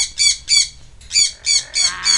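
A pet Amazon or Quaker parrot gives six sharp, harsh squawks close by, loud and evenly spaced, with short silent gaps between them.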